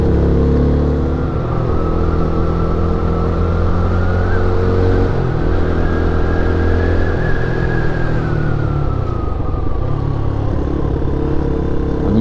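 A Peugeot PM-01 motorcycle climbs Mont Faron in a high gear without downshifting, its engine droning loud and steady as the pitch rises and falls slightly under strain.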